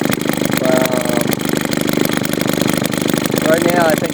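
A fully restored Maytag 72 engine runs steadily at idle speed with a constant mechanical chug and an occasional small pop. Someone talks over the running engine.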